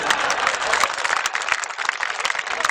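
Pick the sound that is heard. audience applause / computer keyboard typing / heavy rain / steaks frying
audience applause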